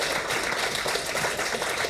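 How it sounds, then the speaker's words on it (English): An audience at a senior programming launch at the Elks lodge claps for partners from Ethos, a dense, steady patter of many hands filling the room throughout. "let's give them an enormous round of applause"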